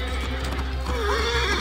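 A horse neighs and whinnies in Assassin's Creed Origins, a loud close call that rises and wavers over steady low ambient game sound with some clip-clop of hooves.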